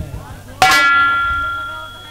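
A single bell struck once, a sharp metallic clang that rings on with a long, slowly fading tone, heard in a rustic Hindi folk-theatre nautanki performance.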